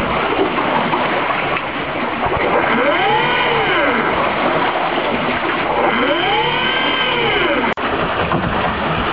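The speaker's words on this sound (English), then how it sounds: "as we turn on the throttle, you can hear the engine." A steady hybrid electric boat motor drone runs throughout with water rushing around it, rising and falling in pitch twice as the throttle is worked, and a sharp click near the end.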